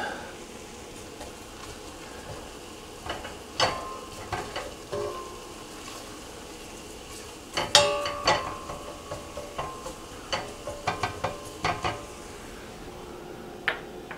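Shallots cooking with flour in a pan for a saffron cream sauce, a soft steady sizzle with scattered spoon scrapes and clinks against the pan, clustered around the middle and end.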